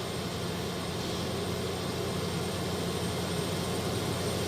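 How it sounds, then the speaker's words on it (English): An airliner's auxiliary power unit runs steadily at the rear of a FlyJSim Q400 turboprop in the X-Plane 12 simulator, a constant broadband whine and roar that holds level and close for the whole stretch. "get some warmth from the APU"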